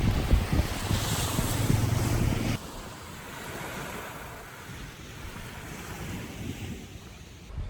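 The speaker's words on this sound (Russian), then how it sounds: "Такие же волны." Ocean surf washes onto a white sand beach, loud rolling waves with wind buffeting the microphone for the first couple of seconds, then a softer, steady wash of breakers with lighter wind.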